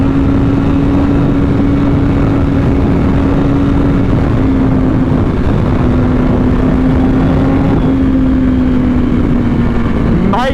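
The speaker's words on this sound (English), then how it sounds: "Third gear power wheelie" A BMW S1000RR motorcycle pulls a third-gear power wheelie, its engine holding a steady, loud drone that rises slightly in pitch and is heavily buffeted by wind throughout.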